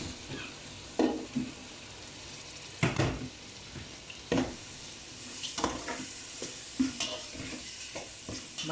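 Tomatoes stirred into ginger-garlic paste, masala and mint for chicken dum biryani, heard as a continuous sizzle broken by several loud scraping stirs and clanks of a ladle against the pot, no voices.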